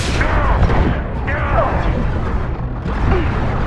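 Heavy gunfire during a Mass Effect 2 firefight, a dense, loud, unbroken barrage of booming shots and mechanical clatter lasting throughout, with brief voice-like sweeping cries surfacing in the mix.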